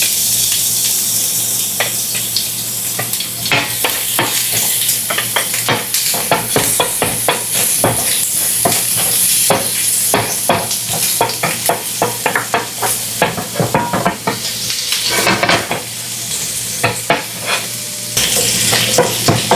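Minced ginger and garlic stir-frying in a hot pan for a beef, pepper and mushroom stir fry, a loud steady sizzle broken by rapid scraping strokes of a spatula, close up.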